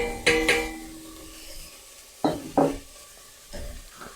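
Carrots and onions are stirred in a frying pan, giving a few sharp scraping strokes over a soft, steady sizzle, with pauses between bursts of movement and no talking.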